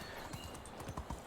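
Horse hooves clip-clopping in the video game Medieval Dynasty, a few brief hoof beats at moderate volume over a soft background.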